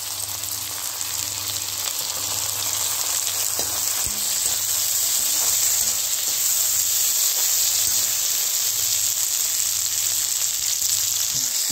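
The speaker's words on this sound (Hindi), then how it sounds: "अब इसमें डालेंगे हम टमाटर, बारीक कटे हुए टमाटर डाल देंगे।" Chopped tomatoes go into onions frying in a pan for poha, setting off a steady, loud, close sizzle with hissing steam that keeps up without a break and has no voices over it.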